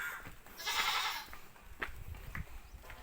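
A goat bleats once loudly nearby, a sustained wavering cry, followed by quieter rustling and a few soft thuds.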